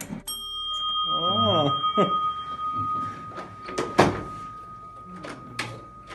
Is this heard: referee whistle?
no